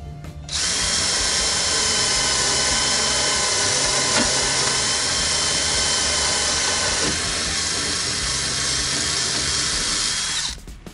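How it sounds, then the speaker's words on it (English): A power drill runs steadily at close range for about ten seconds, a loud continuous whine with no talking. "Now we're ready to drill the other side."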